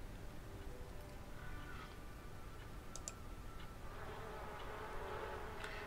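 Bees buzz around a beehive in The Sims 4, a faint continuous droning hum with occasional soft clicks, steady and low under quiet game ambience.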